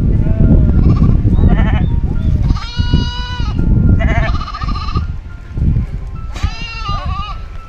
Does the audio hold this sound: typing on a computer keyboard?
no